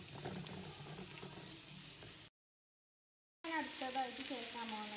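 Sliced onions drop into hot oil for a beef masala and sizzle steadily, the frying cut by a second of silence before the crackle resumes, fairly loud and close.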